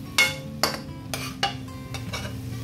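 Cooked chicken is scooped out of a pan in a home kitchen with a utensil, giving about five sharp scraping clinks at irregular intervals over a faint background hum, close and fairly quiet.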